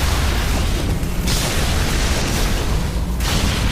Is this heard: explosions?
yes